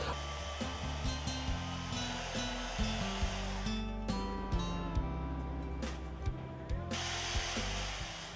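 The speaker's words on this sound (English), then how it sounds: "to also using air dryers to melt the ice." A steady, whining electric air dryer blows continuously to melt ice while an ice chef carves blocks. It is loud and close throughout, with faint tool-like tonal shifts and no speech.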